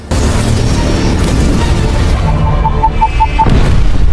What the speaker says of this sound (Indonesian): membawa kontainer yang berisi bom lalu membiarkannya meledak di udara